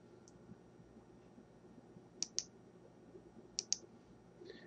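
Computer mouse double-clicks while operating estimating software, two crisp paired clicks a couple of seconds apart plus a faint single tick, close and sharp over a quiet room hum.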